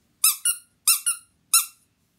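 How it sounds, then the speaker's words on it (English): Three quick squeaks from a squeezable toy pig, each a bright, harmonic rubbery squeal in two short bursts, close and clear against silence. "It's part of the pig thing. Squeaky thing. And without it, it can't squeak."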